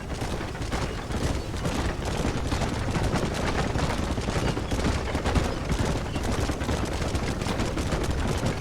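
Dense, continuous gunfire from a Red Dead Redemption shootout, rapid overlapping shots crackling loudly without pause throughout.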